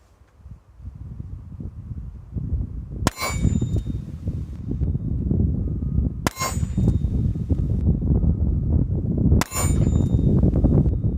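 Three loud revolver shots fired one-handed outdoors, each ending in a sharp metallic clang off a steel target, spaced about three seconds apart over steady wind noise.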